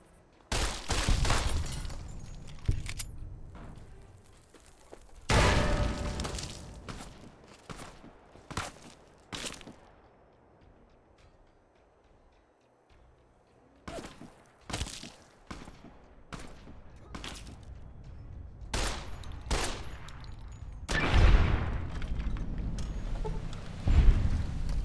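Gunfire in Fallout: New Vegas comes in scattered bursts of loud, close shots separated by quieter stretches, some single cracks and some rapid clusters, with booming tails and a heavy run of firing near the end.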